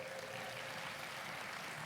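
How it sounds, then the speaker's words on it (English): Audience applause at a graduation hooding ceremony, a steady, dense wash of clapping sustained throughout at moderate distance, with no voices standing out. "can we give them a round of applause"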